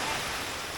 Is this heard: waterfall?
yes